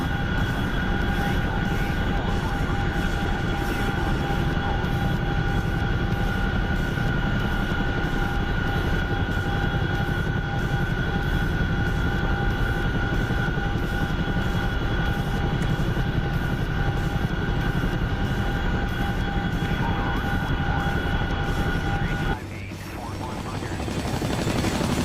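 Steady aircraft engine drone on approach to an airfield in a video game at night, loud and continuous with sustained tonal whine, then cutting to a lower rumble near the end.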